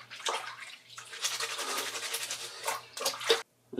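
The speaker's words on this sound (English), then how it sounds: "We're going to see if we can just do a little hand scrub like that." Shoelaces hand-scrubbed in Jason Markk premium shoe cleaner solution make wet, sudsy brushing and swishing sounds in bursts, close and fairly quiet, ending in a brief silence.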